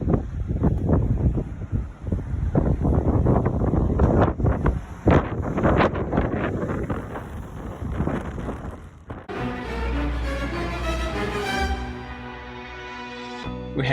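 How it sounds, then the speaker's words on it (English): Strong wind buffets the microphone outdoors, a constant loud roaring rush with gusty swells that abruptly gives way to other background sounds near the end, with no talking. "The wind here is extremely strong."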